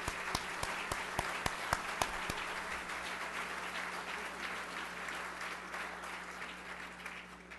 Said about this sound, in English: So how about an applause for the ones that are serving our table?